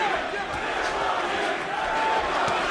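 A boxing arena crowd chants during a middleweight bout between Golovkin and Stevens, a loud, dense wash of many voices sustained throughout, with a commentator's voice faintly mixed in.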